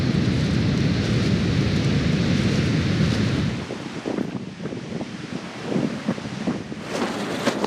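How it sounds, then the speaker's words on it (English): Strong wind roars at a mountain campsite, buffeting loudly with heavy rumble for several seconds before easing into gustier, rustling bursts. "it's so windy"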